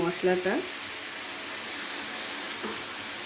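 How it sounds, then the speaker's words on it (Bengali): Vegetables and paneer being stir-fried with a wet spice paste give off a steady, moderate sizzle throughout, with a few brief scraping stirs near the start and again toward the end. "মশলাটা দিয়ে খুব ভালো করে একবার কষিয়ে নেব সমস্ত সবজির সাথে।"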